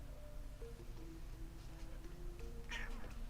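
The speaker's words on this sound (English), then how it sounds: "Don't you meow me." A house cat meows faintly once or twice against a steady low background hum, with a thin brief cry near the end.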